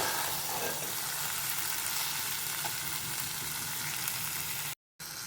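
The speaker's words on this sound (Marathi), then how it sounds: "चांगलं एकदा परतून घेऊया" Ivy gourd (tondli) sautéing in a pan with salt, an even, soft frying hiss heard close up without speech, cut by a brief gap of silence near the end.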